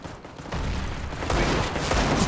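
Gunfire in a competitive CS:GO match: a couple of sharp bursts of shots, close and loud, with a short lull between them.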